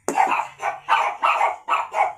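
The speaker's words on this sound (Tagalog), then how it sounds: "Narinig yung mga aso guys." Dogs barking in a rhythmic run of about six sharp, close barks in quick succession, heard alone.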